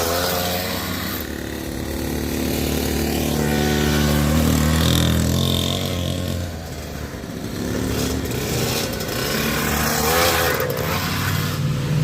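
A KTM SX dirt bike engine revs continuously while being ridden on dirt, a loud, rough two-stroke-style buzz rising and falling in pitch, dipping briefly midway before climbing again, close to the listener with no talk.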